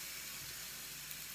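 Bread for a grilled cheese set in a pan on the stove, a faint, steady hiss of sizzling that stays even and quiet for the whole moment.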